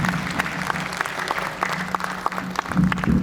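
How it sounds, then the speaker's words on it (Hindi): Audience at a Hindi poetry recital clapping steadily for a poet, a dense continuous applause with scattered sharp claps, swelling slightly louder near the end. "जोरदार तालियों से स्वागत करिए अपने आंगन के बड़े रचनाकार का भाई डॉक्टर दिनेश रघुवंशी।"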